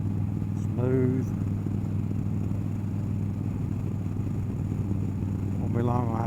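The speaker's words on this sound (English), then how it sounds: "Bike's running good," A motorcycle engine idles smoothly and steadily at close range, a continuous low throb held for the whole stretch, with brief bursts of a voice near the start and end.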